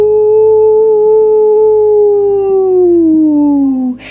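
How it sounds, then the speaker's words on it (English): One sustained dog howl in wolf-like style, steady at first, then sliding down in pitch and breaking off abruptly near the end; loud, close and alone. "And then all of a sudden, Mutsie started to howl."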